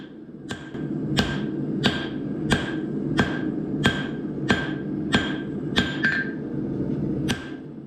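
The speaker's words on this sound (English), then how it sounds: "With that complete, we can begin forging in the bevel to some degree." Hammer blows forging the bevel of a steel knife made from ball bearings, ringing metallic strikes at a steady rhythm of about one per second over a low background hum, close and loud.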